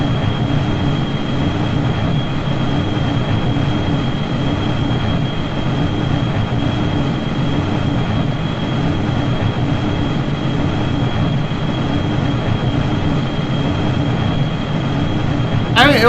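A small single-stage-to-orbit spaceplane's jet engines roar through a rough takeoff in Kerbal Space Program, a loud, constant droning rumble that holds steady from start to finish.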